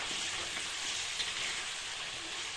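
Green chillies and a fish curry base for a thin aar fish curry with potato and papaya fry in a pan with a soft, steady sizzle, quiet and continuous, with no voices.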